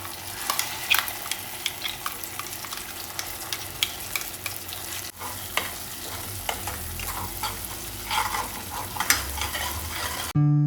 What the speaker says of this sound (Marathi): आणि ही ग्रेव्ही जी दिली ती ऑइलमध्ये आपल्याला फ्राय करायची थोडीशी, आणि मग त्यात स्पायसेस टाकून हे टाकायचे.